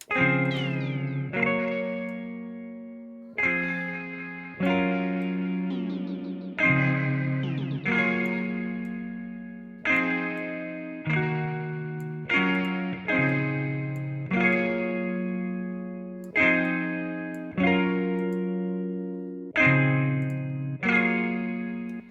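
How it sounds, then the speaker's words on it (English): Repeated plucked or keyed notes drenched in lo-fi, vintage-style reverb and echo from the Waves Retro Fi plugin, each chord ringing out with a washy, slightly distorted tail in a steady rhythm. "you get some nice kind of old school vintagey sounding reverbs"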